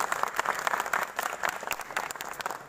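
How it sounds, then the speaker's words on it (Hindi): An audience gives a round of hearty applause for an honored guest at a hotel event, brisk uneven clapping from a moderate crowd that carries on without pause. "हम चाहते हैं कि बार विक्रांत सर के लिए एक बार जोरदार ताली से ये करें।"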